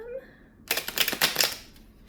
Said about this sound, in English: These cards are not shuffling very well.